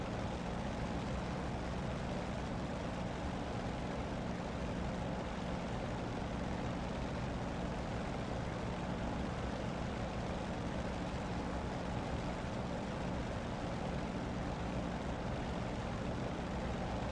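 Corsair propeller aircraft engine droning in the DCS flight simulator, a loud, unbroken roar with a rumbling low throb, steady and close throughout with no break.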